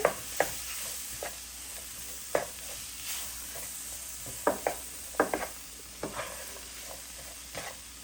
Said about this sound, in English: Okay, so now I'm just gonna saute the veggies with the flour.